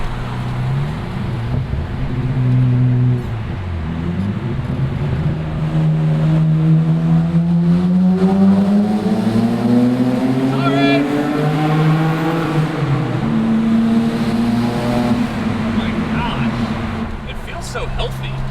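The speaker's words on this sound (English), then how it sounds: "Oh, yeah, you can hear the turbo is pretty good." A turbocharged Nissan Laurel pulls hard through a tunnel, its engine note rising and falling across gear changes with loud reverberant drone and turbo whistle, while voices talk over it inside the car.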